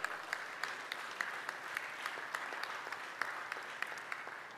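Audience applause with steady dense clapping at a business forum between Tanzania and the European Union, following an MOU signing, heard from within a large hall and sustained throughout.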